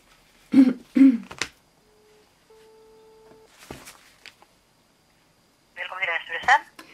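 A telephone call is placed: a few short dialing beeps are followed by steady ringback tones in a quiet room, with throat clearing and brief talk around them.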